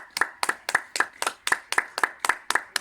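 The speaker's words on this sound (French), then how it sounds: "On applaudit avec tout le monde." Rhythmic clapping from neighbours applauding during lockdown, about eleven sharp, evenly spaced claps in a steady beat, fairly close with a slight ring after each, no voices.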